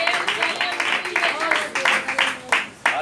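A church congregation claps for Jesus during an open-air sermon, a dense wash of many hands with irregular louder bursts, mixed with voices and sung tones in the background.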